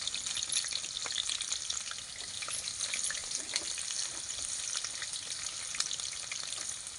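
Onions sizzle and fry in hot oil over an outdoor cooking fire in a corn field, a steady, close crackling hiss with scattered pops, no voices.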